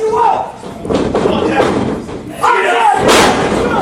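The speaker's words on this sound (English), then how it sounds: "Scooping him up, slamming him down, putting him into position." Heavy slams and thuds of a wrestler being driven down onto the canvas at an independent wrestling event, booming under an excited play-by-play commentator talking throughout.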